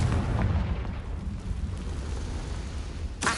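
A Confringo blasting spell in Hogwarts Legacy erupts as a dense, roaring explosion, a sustained rumbling wash with a sharp burst at its end.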